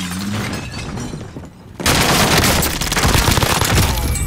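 Call of Duty: Modern Warfare firefight, a sudden dense eruption of rapid gunfire and blasts that stays loud and continuous after a quieter opening.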